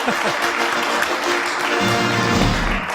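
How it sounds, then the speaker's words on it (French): An audience at a French news-style show applauds, a dense, steady clapping that continues throughout, with solemn music rising underneath toward the end. "on l'applaudit très très fort"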